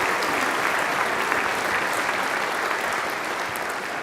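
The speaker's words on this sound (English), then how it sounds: "Give Nephew Luke a round of applause, okay?" A church congregation applauds during a homily: steady, dense clapping from many hands, loud and continuous for several seconds, with no talk over it.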